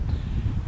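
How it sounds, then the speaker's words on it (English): Outdoor wind buffets the microphone in a brief, continuous low rumble that fills the whole moment, with no voices over it. "It's a bit windy, I don't know how the audio is going to be"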